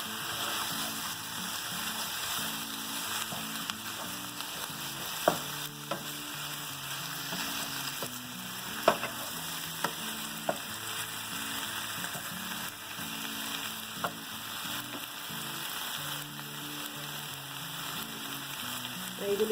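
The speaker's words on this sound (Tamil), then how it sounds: "ரொம்ப வதக்க வேண்டாம், சும்மா லைட்டாக வதக்கினா போதும்." Chicken pieces frying lightly in a pan, with a steady close sizzle and occasional sharp clicks of stirring running throughout.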